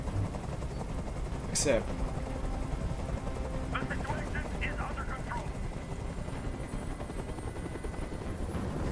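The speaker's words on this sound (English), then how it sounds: "I can't stand that noise anymore. tell that helicopter to get out of here" A helicopter in the video game Detroit: Become Human keeps up a steady, loud rotor drone throughout, with a person talking over it.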